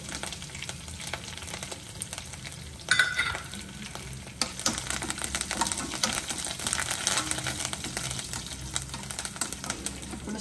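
Garlic and curry leaves fry in a pan for a Telugu chutney, giving a steady crackling sizzle that grows denser partway through, with scraping stirs and light clinks, close and continuous without speech.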